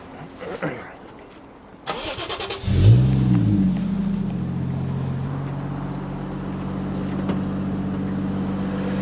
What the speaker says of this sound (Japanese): こっちもちょっとエンジンかけるね